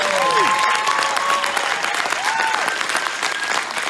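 A crowd at the 2018 New Brunswick provincial debate tournament final claps steadily throughout, loud and sustained, with a few whistles rising over the applause.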